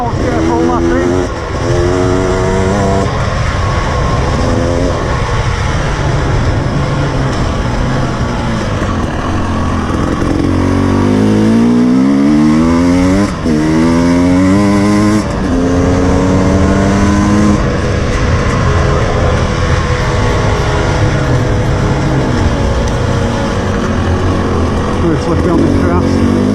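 A 2019 KTM 300 TPi two-stroke dirt bike riding a lap on grass, its engine a loud continuous buzz that rises and falls in pitch as the rider shifts and accelerates, heard up close throughout.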